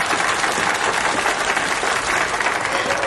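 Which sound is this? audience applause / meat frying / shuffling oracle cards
audience applause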